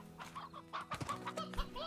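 Chickens in Slime Rancher cluck and chatter, several close, overlapping short calls from a crowded flock.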